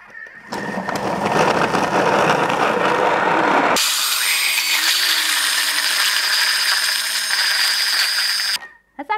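A blender whirs loudly and steadily at speed 7.5 blending banana ice cream, its motor pitch rising sharply partway through as the contents break down, then cutting off near the end.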